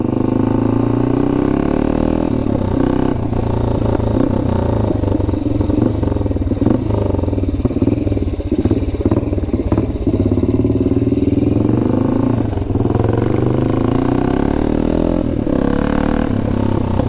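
A 1970 BSA Victor Special B44VS 441 motorcycle engine roars steadily and loudly up close, its rumbling drone revving without a break throughout.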